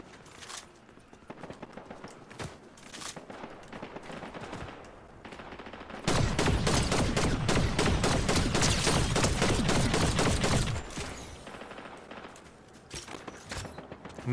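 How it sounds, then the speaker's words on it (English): Distant video game gunfire from the northwest, a dense burst of rapid shots swelling loud for several seconds mid-clip, with scattered lighter pops before and after. "A lot of firing off to the 270 northwest."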